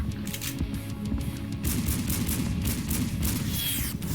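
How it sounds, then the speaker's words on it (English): Shotgun fire against Wendigos in the Slendytubbies horror game, a rapid run of loud repeated blasts and booming impacts layered over dense game noise with no talk. "Shotguns work very well against the Wendigos"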